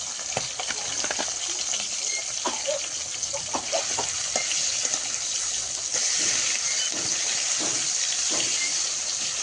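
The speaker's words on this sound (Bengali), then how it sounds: "কিছুটা মাছ ভাজা হয়ে গেছে আর কিছুটা কড়াইতে ভাজা চলছে" Fish sizzles and spits steadily in hot oil in a kadai (wok), a continuous close frying hiss with small pops and scraping stir sounds throughout.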